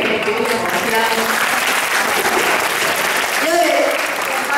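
Audience applause at South Tuen Mun Government Secondary School's inter-house drama competition: a dense, steady wash of clapping across the whole stretch, with a voice speaking over it.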